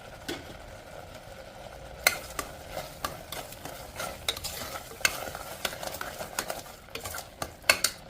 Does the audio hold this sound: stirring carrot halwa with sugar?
yes